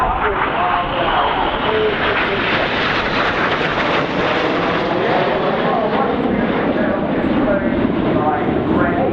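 A Red Arrows display jet roars loudly overhead at an airshow, a dense continuous engine rush filling the whole stretch with a slowly shifting pitch as it passes; a commentator's voice runs underneath.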